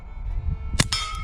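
A bullet strikes a steel swinging target about 25 to 30 yards away, giving one sharp metallic clang that rings briefly.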